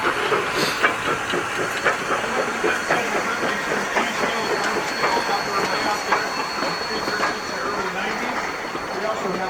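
Steam locomotive D&RGW No 346, overfired at a museum steam-up, blows off its pop valve in a loud, sustained hiss of escaping steam, with a voice talking over it.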